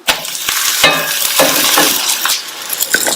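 Roti frying in oil on a pan over a medium flame, with a loud, close crackling sizzle and sharp clinks and taps of a utensil against the pan scattered throughout.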